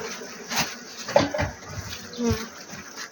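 Honey bees hum and buzz close by as a hive frame is shaken during spring beekeeping work, the swarm noise rising and falling with thuds and someone talking over it.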